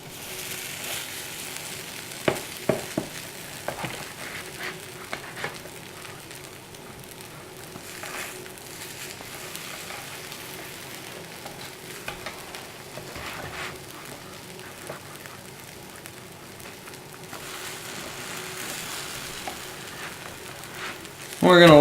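French toast frying in a pan gives a soft, steady sizzle at moderate distance, with a few sharper pops and clicks early on and a louder clatter at the very end.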